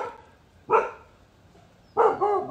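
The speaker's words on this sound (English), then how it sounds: "As you hear, my dogs are agreeing." Dogs barking indoors, two separate bursts of barks about a second apart, moderately loud and fairly close, with quiet room tone between and no talking.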